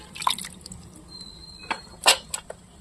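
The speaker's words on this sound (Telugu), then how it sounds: "దీంట్లో పోసుకొని మట్టి లేకుండా మంచిగా కడుక్కొని పైనుంచి ఇలా తీసుకోవాలి" Wet chukka kura greens are lifted from a bowl of wash water, giving a few close, scattered drips and splashes with a brief faint whistle-like tone in between.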